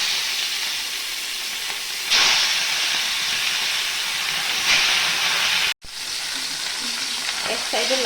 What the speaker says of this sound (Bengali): ভালো করে লবণ হলুদ মেখে মাছটা ভেজে নেব।